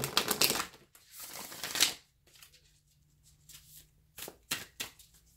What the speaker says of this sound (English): Let's get one more good shuffle here.